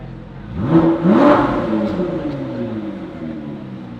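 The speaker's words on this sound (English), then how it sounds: "Another Ford GT just showed up." A Ford GT supercar pulls up nearby, its engine rising in two quick revs before settling to a steady, fading drone, with a voice talking over it.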